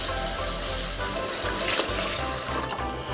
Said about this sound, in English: Now the first thing we have to do is to rinse the rice. We want to do this in warm water